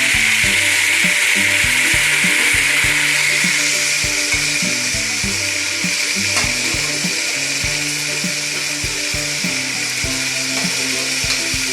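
Mutton sizzles loudly in a pot with fried onion and ginger for biryani, a dense, steady hiss that fills the whole stretch, close and constant, with low clattering and rhythmic knocking underneath and no talking.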